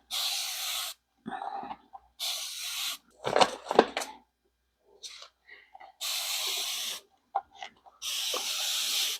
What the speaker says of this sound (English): I've got my handy dandy sprayer. It's not working as well as it used to.